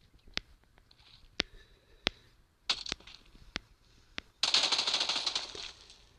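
Gunshots in the mobile video game PUBG New State, a series of sharp single cracks spaced about a second apart, ending in a louder sustained burst of gunfire and debris noise.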